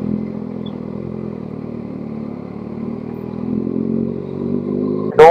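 Kawasaki ZX6R motorcycle rolling along slowly at low throttle, a steady even engine drone held for several seconds, then a brief louder burst right at the end.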